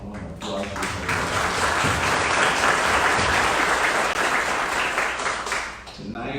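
Sustained applause from an audience at an evening remembrance event for domestic violence victims, honoring service providers. Thick, loud clapping fills the room and fades slightly near the end, with voices mixed in.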